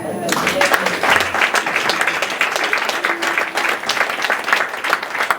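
A Sunday church congregation applauds in a sustained, dense wash of clapping that fills the room at steady loudness, with voices mixed into the crowd noise.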